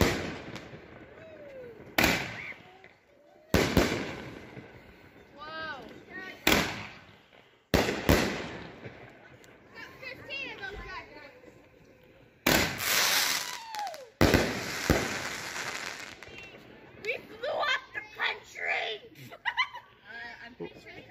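A grand-finale fireworks cake called Angry Pandas goes off in loud bursts and whistling, crackling volleys spread over about twenty seconds, with spectators laughing and shouting between and over the blasts.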